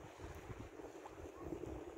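Wind gusts buffet the microphone in a steady, rough roar on a beach, with a faint wash of waves behind it.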